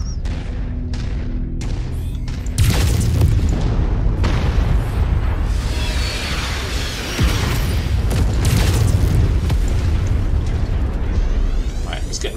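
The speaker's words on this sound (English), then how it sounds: "Oh, someone's dropping missiles" Missiles pounding down in MechWarrior 5 gameplay, with a string of heavy booming blasts and rumbling bursts, some overlapping, loud and close over a churning battle backdrop.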